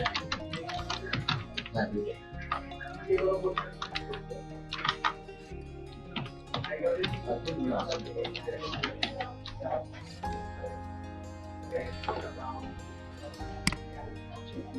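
Rapid typewriter-style key clicks for an animated text reveal in Premiere Pro, a steady run of short taps over a low music bed throughout.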